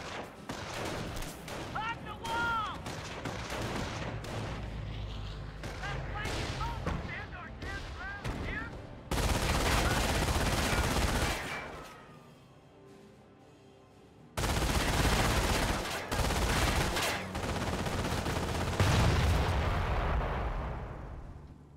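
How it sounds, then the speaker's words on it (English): Combat in Company of Heroes under incoming gunfire and artillery, with dense rattling gunfire and heavy booming blasts in loud sustained waves, a brief lull in the middle, and voices shouting through the barrage. "We have a lot of incoming fire! Base is taking fire!"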